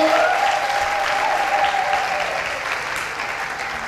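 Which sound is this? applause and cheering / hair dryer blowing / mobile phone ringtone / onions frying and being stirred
applause and cheering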